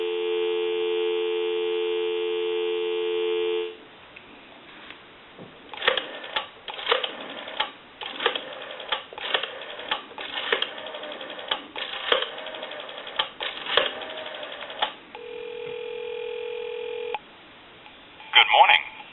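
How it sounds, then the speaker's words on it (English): A Western Electric 323 rotary candlestick telephone gives a steady dial tone, then a long run of rhythmic rotary dialing clicks, followed by a shorter tone and a brief burst at the end. "Give you some dial tone."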